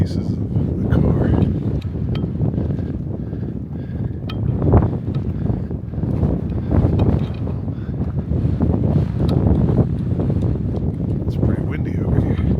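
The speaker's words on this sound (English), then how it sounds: "It's pretty windy over here." Steady outdoor wind buffets the microphone on a breezy Colorado day, a continuous low rumble with gusty swells throughout, voices faintly audible underneath.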